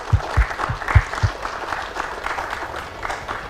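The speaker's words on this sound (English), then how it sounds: "Yes, give them a round of applause." Audience clapping for a panel of speakers at an Independence Day broadcast event, heard as a brief burst of applause with a few sharp claps, fading into a lighter patter.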